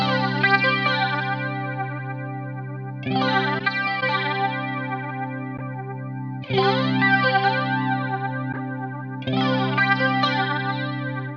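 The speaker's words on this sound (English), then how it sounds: "with the flanger, we've got this prime G flanger." Guitar tone through a BOSS MD-500 modulation pedal on its prime G flanger setting, sustained chords swept by a sweeping jet-like whoosh, played in four phrases separated by brief restrikes, close and alone with no talking.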